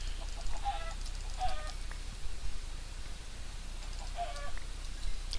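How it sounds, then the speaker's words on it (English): Minecraft chickens cluck in short bursts, three or four soft clucking calls spread across a quiet in-game background with no talking. "Lots of chickens."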